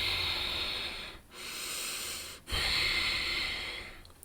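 A forceful yogic exhale through a constricted throat, given twice as long, loud, breathy rushes of air with a brief pause between them, close to the microphone.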